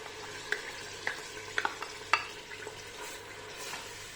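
Onion paste frying in about half a cup of hot cooking oil, a soft steady sizzle under a handful of sharp spoon clinks and scrapes against the pan, close and alone without speech.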